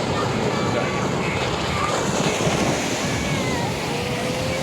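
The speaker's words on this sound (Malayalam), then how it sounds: "മനോഹരമായ ഒരു തിരമാല വരുന്നത് നല്ല അടിപൊളി തിരമാല വരണേ" Sea waves break on the beach at Chavakkad in Kerala, a loud continuous roar of surf and rushing water filling the scene without pause.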